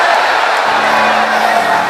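A congregation in a gymnasium lets out a loud, sustained shout of glory, a dense crowd roar of cheering and whooping filling the hall for the whole moment.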